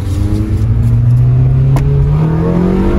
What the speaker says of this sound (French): Il y a un Duster, il veut faire la course.